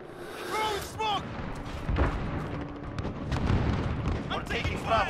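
Gunfire and explosive booms in the video game Call of Duty: Modern Warfare, sharp bursts and heavy impacts scattered throughout, with a player's voice heard in places.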